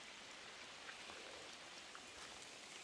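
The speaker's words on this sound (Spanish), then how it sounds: "La lluvia viene," Steady rain falls outdoors in the Los Tuxtlas countryside, a dense, even hiss of drops with a few faint individual patters, constant in level and unaccompanied by voices.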